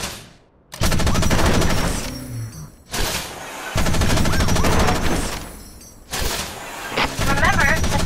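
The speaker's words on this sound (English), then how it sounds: "Remember to fire your machine gun in burst to avoid overheating." Bursts from a Wanzer mech's machine gun in Front Mission Evolved, with three or four loud rapid-fire volleys separated by short pauses and a voice talking over the shooting.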